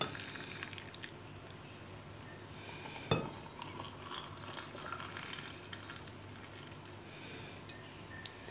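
A spoon stirs hot milk into hot chocolate in a cup, a soft continuous swirling with faint clinks and one sharper tap, quiet and close with no talking.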